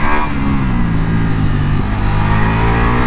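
Ducati Multistrada V4 170 hp motorcycle engine revving hard on the throttle, a loud, close, continuous growl whose pitch climbs steadily over a few seconds.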